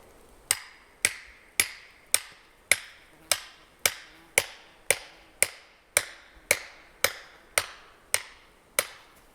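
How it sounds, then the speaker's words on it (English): Steel hammer striking a chisel against a rock boulder during geology field sampling in the Strawberry Mountains, about sixteen sharp, evenly spaced metallic taps, close and fairly loud with brief ringing decays, no talking. "I just take this hammer and this chisel and take some pieces off."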